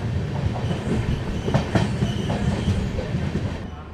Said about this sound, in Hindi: अभी हमारी ट्रेन जो है वो चल रही है करीमगंज की तरफ।